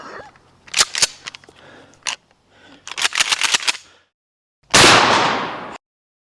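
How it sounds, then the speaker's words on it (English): A Mossberg 590 12 gauge shotgun fires an old Winchester slug outdoors: a single loud, sharp blast with a long trailing decay, preceded by clicks and handling noises of loading. "first round this time is a slug. This is an old Winchester slug."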